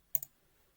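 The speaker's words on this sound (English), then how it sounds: "let me click on create" Two quick computer mouse clicks, close and crisp, land about a tenth of a second apart on a create button in a cloud lab web interface, followed by near silence.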